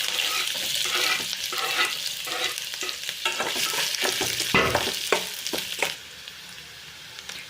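Onions and green chilies fry in hot oil, giving a steady sizzle broken by stirring scrapes and clinks, near and fairly loud before quieting toward the end.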